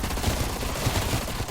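A FAMAS rifle fires a rapid, continuous burst in Cold War Zombies, a dense, close crackle of shots lasting under two seconds.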